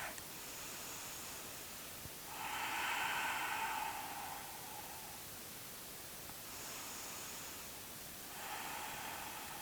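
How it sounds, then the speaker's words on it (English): Slow, deep belly breaths during a hip-opening yoga stretch: soft airy inhales and long exhales repeat in a steady rhythm, close and gentle over a faint hiss. "start to use that big belly breath, inhaling into the belly and exhaling all the way out"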